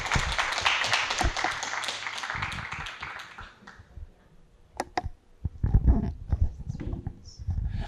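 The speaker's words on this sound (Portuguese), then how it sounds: "eu queria pedir uma salva de palmas" An audience at a talk about slave labour in coffee production claps in a dense burst that fades out after a few seconds, then gives way to scattered knocks and handling noises.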